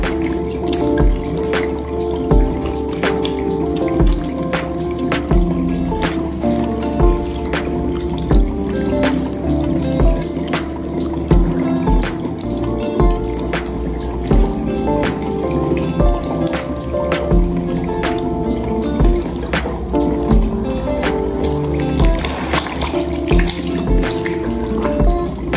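Tap water runs steadily into a sink while hands are wetted, a loud, continuous splashing stream with dripping textures, close by and without speech.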